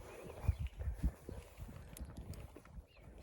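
Novoaleksandrovsk draft horse hooves clop on soft ground at a slow walking pace, irregular dull thuds close by with faint outdoor background noise.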